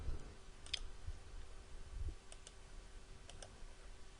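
Mouse clicks come in a few sharp, close, quiet bursts while an Excel column is formatted on a computer, with a faint steady hum underneath.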